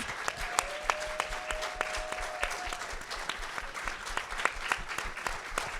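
A movie-theater audience at a film festival Q&A in the Roxie Theater claps steadily, sharp individual claps standing out over a softer bed of applause, a faint tone sustained briefly in the background.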